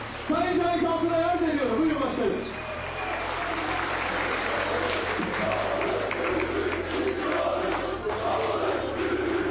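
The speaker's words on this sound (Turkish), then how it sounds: "Yöneticilerime bir alkış istiyorum arkadaşlar" Crowd applause at a Turkish municipal event in Sultangazi, a dense sustained clapping and cheering that fills the space, with a voice speaking over it near the start.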